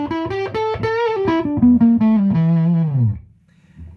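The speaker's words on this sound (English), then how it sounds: "Now with no distortion on, here's the amp played clean." A clean electric guitar played through an amp with no distortion plays a short melodic phrase of single notes and chords, sustaining and bending downward before fading out near the end.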